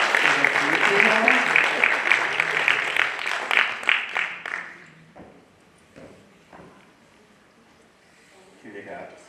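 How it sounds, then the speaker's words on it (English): A conference audience claps loudly for about five seconds, a dense burst of applause that fades into a few scattered claps while people murmur and talk in the room. "Can we just get like a quick round of applause for the"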